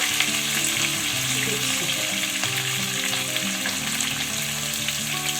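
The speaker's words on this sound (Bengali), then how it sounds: "এগুলো একটু ভালো করে ভেজে নিতে হবে।" Sweet potato pieces, with carrot, fry in a pan with a dense, continuous sizzle and faint stirring noises, steady throughout over a low tonal hum.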